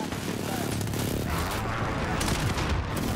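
Gunfire rattles in Call of Duty: Modern Warfare, with dense, loud bursts of automatic shots and booms running continuously through the whole stretch.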